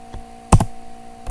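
Computer keyboard typing: a few separate close keystrokes, sharp clicks with gaps between them, alone with no talk.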